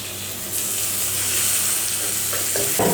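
Chopped tomatoes drop into a pan of sautéed onions for a cabbage stir-fry, setting off a loud, close sizzle that swells suddenly, then a clatter of stirring near the end.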